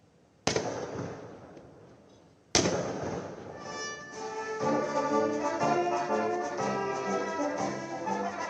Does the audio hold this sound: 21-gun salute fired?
yes